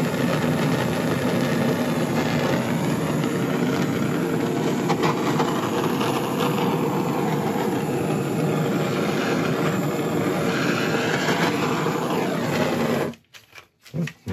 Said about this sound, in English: Going to go over again with the blowtorch